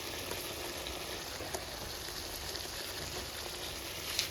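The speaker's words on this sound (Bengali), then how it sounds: "আর এখন দেব আদা রসুন পেস্ট" Ginger garlic paste hitting a hot pan in a home kitchen, a steady low sizzle with soft crackle running evenly throughout, no voices.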